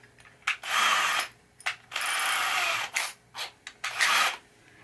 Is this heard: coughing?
no